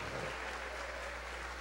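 A church congregation at a Christmas service claps in dense, steady applause that fills the space evenly, loud and sustained for the whole moment without a break.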